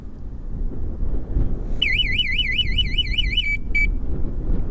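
Black Dragonrider universal motorbike alarm blares a warbling electronic siren outdoors for about two seconds, then gives a short beep, over steady wind noise.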